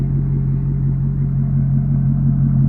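Engine of a 2009 Maserati Quattroporte S growling at steady idle, a deep continuous rumble with a firm pulsing low tone, close and loud with no talking.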